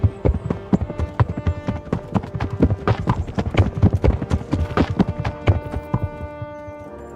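Horse hooves clip-clop in a fast steady rhythm while riding in the video game Kingdom Come: Deliverance, close and loud over a low hum.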